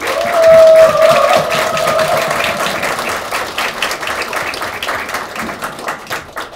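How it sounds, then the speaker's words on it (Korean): A seated crowd of party members at a regional meeting in Daegu gives loud, sustained applause, a dense wash of clapping with some cheering that slowly thins out, heard without speech. "한 번 더 큰 박수 부탁드리겠습니다."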